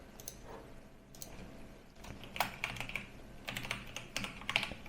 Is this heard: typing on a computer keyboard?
yes